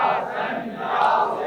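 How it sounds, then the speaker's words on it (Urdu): A large crowd at a Muharram religious gathering loudly chants the slogan 'Ya Hasan Ya Husain' in unison, a dense roar of many voices close by. "ایک نعرے کا اضافہ میں بھی کرتا ہوں, دونوں ہاتھ اٹھائیے. یا حسن یا حسین"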